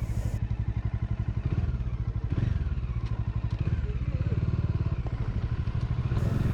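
Motorcycles ridden by bikers on a Ladakh road give a steady, throbbing engine rumble with some clatter, moderately loud and close throughout, with no talk.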